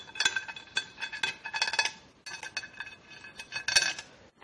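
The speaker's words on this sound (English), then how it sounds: "placing the rear of the pump, replacing all the bolts" Metal bolts for the transmission pump of an Infiniti QX4 with an RL4R01A transmission are handled during reassembly. They make sharp, bright clinks and rattles in quick irregular bursts, close and fairly quiet, with no talk.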